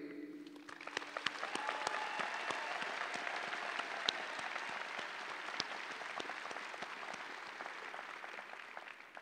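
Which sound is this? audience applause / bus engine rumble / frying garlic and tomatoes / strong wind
audience applause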